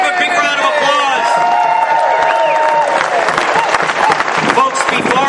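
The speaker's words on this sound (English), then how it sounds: "let's give a big round of applause" An audience at a political rally applauds and cheers after a state representative is introduced, with dense clapping and whoops under a loud nearby voice and scattered speech.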